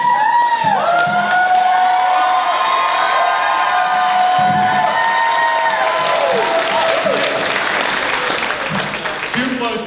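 A live studio audience at a Dallas-themed Newlywed Game show claps and cheers loudly for a couple, with whoops and shouts over continuous applause.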